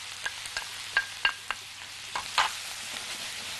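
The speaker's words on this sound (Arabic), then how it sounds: "ننزل باللحمه المفرومه" Minced meat fries in butter and oil in a pan, with a low steady sizzle under a series of sharp scrapes and taps from stirring, close and moderately quiet.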